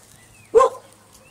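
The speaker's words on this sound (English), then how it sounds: "Uh-oh, dog's having a bark." Single short dog bark heard close and loud against a quiet room, a sharp yip-like woof lasting a fraction of a second, with no talking.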